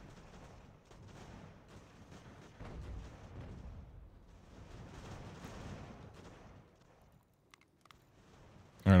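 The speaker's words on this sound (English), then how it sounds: "Looks like they're shooting muskets." Musket volleys rumble at a distance in the Ultimate General: American Revolution battle game, rolling in ragged bursts of muffled gunfire that swell and fade with no talking, ending on a sharp louder pop.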